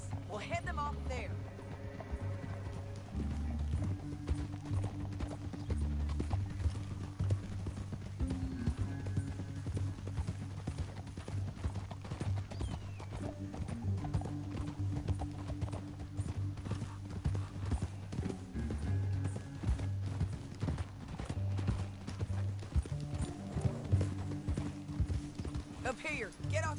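Rhythmic hoofbeats of a horse ride steadily through a Red Dead Redemption 2 canyon chase on PlayStation 4, clip-clopping continuously under game music and character dialogue.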